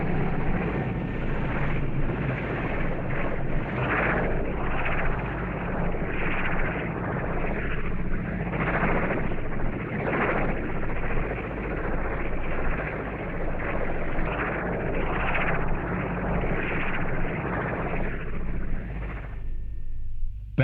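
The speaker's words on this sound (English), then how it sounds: "The Belvedere helicopters are the lifeline for Walker's jungle patrols." Belvedere military helicopters flying over jungle during the Indonesia–Malaysia Confrontation, a steady loud rotor and engine drone that holds for the whole stretch before cutting off sharply at the end, with no voices.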